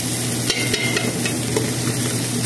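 Garlic and onion sizzle steadily in a hot pan for a chicken curry, a close, continuous frying hiss with a few stirring scrapes and no talking.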